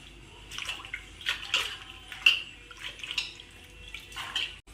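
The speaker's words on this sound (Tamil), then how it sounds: "கீரையை மண் இருக்கும், அதை ஒரு 2-3 தடவை நல்லா அலசிக்கங்க." Vallarai greens (Indian pennywort) being rinsed by hand in water to wash off soil, giving close, repeated sloshing and splashing bursts at an uneven rhythm, with no talk.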